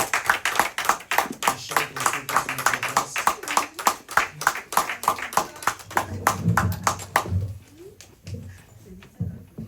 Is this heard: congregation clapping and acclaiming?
yes